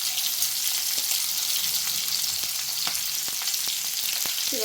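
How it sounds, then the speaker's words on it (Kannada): Onions, green chillies and curry leaves fry in a pan with a steady, close crackling sizzle, dotted with sharp pops and clicks of the spatula throughout. "ಇವಾಗ ಇದನ್ನು ಸ್ವಲ್ಪ ಕೆಂಪುಗಾಗೋವರೆಗೂ ಫ್ರೈ ಮಾಡ್ಕೊಳ್ಳೋಣ"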